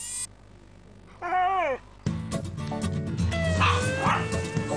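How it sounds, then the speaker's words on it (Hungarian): A beagle gives a long rising howl, then breaks into a run of loud, close barks and yelps mixed with further howling notes, with no voices over it. "Mindenki szereti a Beagle-t, és szavamra, ennek a kutyának van hangja."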